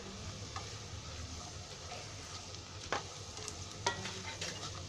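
Carrots added to browned onions frying for a Konkani vegetable pulao give a soft, steady sizzle, fairly quiet, with a couple of brief stirring clicks from a spoon against the pan; no voices.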